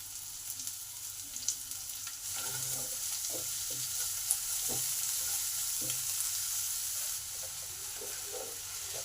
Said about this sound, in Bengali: পেঁয়াজটা হাফ ভাজা হয়ে এসেছে।